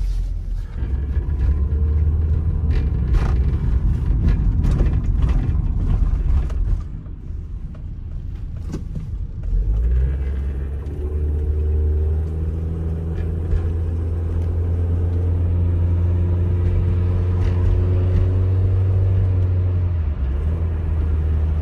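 A van pulls away after backing out of a shop, its engine rumbling steadily and loudly from inside the cab, with a brief drop around a gear change before the drone settles again.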